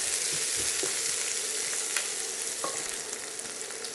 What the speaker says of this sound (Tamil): அதுக்கப்புறம் பச்சை மிளகாவும் வெங்காயமும் சேர்த்துடலாம். இதை வதக்கிக்கலாம்.